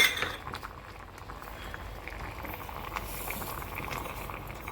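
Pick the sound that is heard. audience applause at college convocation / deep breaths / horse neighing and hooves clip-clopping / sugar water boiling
sugar water boiling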